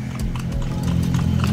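Horse hooves clip-clop on the old-city streets of Intramuros in Manila as a horse pulls a carriage, a steady rhythm of near, crisp hoof strikes over a low rolling rumble.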